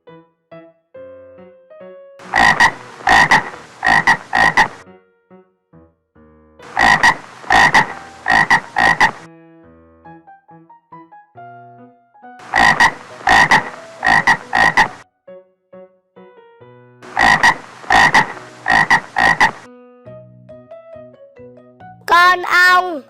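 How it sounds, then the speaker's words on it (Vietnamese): Frogs croak in four loud bursts of rapid, rattling croaks, each cluster separated by a short pause, with a soft tonal background of music between them and a brief chirping sound at the very end. "Con ếch."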